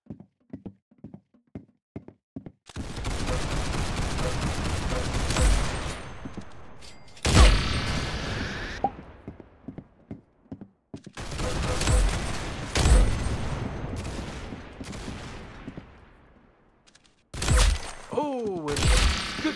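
Bursts of gunfire from weapons in the Roblox shooter Arsenal crackle in dense rapid volleys separated by short pauses, loud and close, with a few isolated single shots at the start and no talking.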